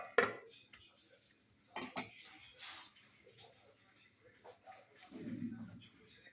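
A spice paste with coriander powder and yogurt is stirred in a pan, with sporadic metal spoon scrapes and clinks against the cookware. The knocks are close and irregular, with quiet gaps between them.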